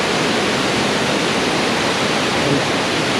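Heavy, continuous rush of rain-swollen water pouring and tumbling nearby, a dense broadband roar with no pauses and no voices.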